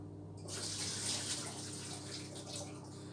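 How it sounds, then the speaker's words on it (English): Boiling water poured away into a kitchen sink, a steady gushing splash that starts abruptly and runs continuously, close and fairly loud, with no talk over it. "So let's get rid of this boiling water."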